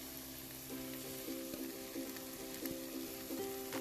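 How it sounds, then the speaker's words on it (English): JUST Egg vegan egg sizzles in a frying pan with a steady, quiet crackle and occasional soft scrapes and taps, heard without talking. "we're gonna cook the egg, the just egg"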